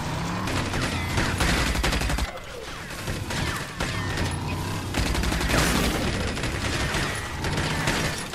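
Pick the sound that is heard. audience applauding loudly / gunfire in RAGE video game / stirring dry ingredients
gunfire in RAGE video game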